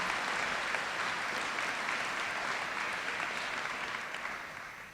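Sustained applause from an audience at a school academic awards ceremony, a dense, even wash of clapping that holds steady for several seconds before beginning to fade.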